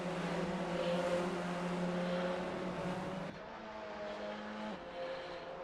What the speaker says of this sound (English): And then it's just down to Angela Scotty, who's not far off the back of this little crowd of cars.